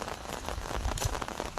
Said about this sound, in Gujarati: વરસાદ આવે છે જુઓ તમે